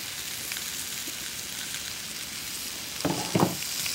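A T-bone steak with olive oil sizzles on a gas grill in a soft, steady crackle throughout, with two brief louder scrapes or hisses near the end.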